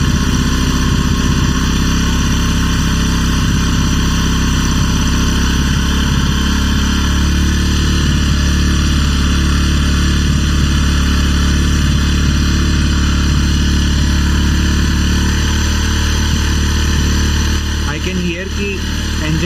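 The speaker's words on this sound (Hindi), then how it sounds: "इंजन की आवाज़" Bajaj Pulsar NS200 motorcycle engine running steadily at idle during carburetor adjustment, a loud continuous hum that holds its pitch throughout, with a brief disturbance near the end.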